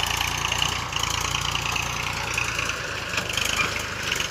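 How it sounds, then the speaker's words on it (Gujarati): A tractor engine runs in a wheat field with a steady, close, rhythmic chugging throb at an even pace, and no voices are heard. "મિત્રો આપણે ઘઉંવાળા ખેતરમાં ટ્રેક્ટર ફેરવા માટે આવી ગયું છે"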